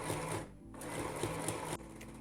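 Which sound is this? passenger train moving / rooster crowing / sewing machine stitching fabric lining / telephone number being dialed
sewing machine stitching fabric lining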